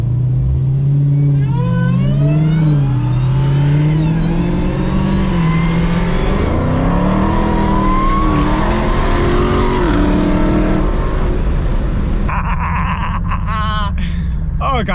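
A 2021 Dodge Challenger Hellcat Redeye Super Stock with a manual gearbox revs loudly while driving, its deep engine tone rising and falling through gear changes, close and continuous throughout.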